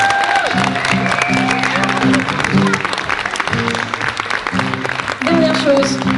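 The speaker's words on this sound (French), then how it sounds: "Applaudissez-les très fort." Audience applause at a public event, a continuous wash of clapping mixed with crowd noise while voices and music-like tones run over it throughout.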